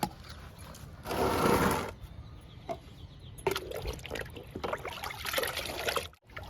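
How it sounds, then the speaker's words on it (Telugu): Liquid kitchen-waste fertilizer is poured into a container, splashing and trickling in uneven bursts of moderate loudness, with a stronger gush early on and softer dribbles afterward, with no talk. "కిచెన్ వేస్ట్ లిక్విడ్ కూడా ఇస్తున్నామండి. ఇదిగోండి పోసేస్తున్నా."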